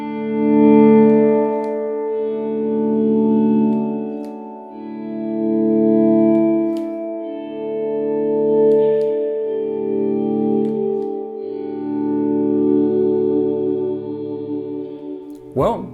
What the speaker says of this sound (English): you just hear the effect of the reverb